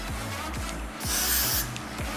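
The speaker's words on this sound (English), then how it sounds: "I'll apply the spray right around the edges" Freezing spray is applied to the edges of a curly 360 lace frontal wig, producing one sharp, steady hiss that lasts about half a second over a low background hum.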